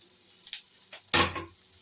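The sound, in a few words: grated coconut frying in a pan for fish curry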